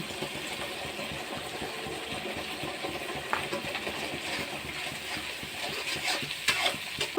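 Spice masala of turmeric, dried chili powder and salt cooking in a pan for a sarpunti fish mustard curry, giving a steady close sizzle with a few faint stirring scrapes, no talking.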